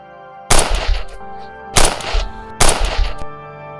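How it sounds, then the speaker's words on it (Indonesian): Three sharp gunshot sound effects ring out, each a loud close blast with a brief ringing decay, the first followed quickly by the other two at roughly one-second spacing. "Suara tembakan memecah pagi."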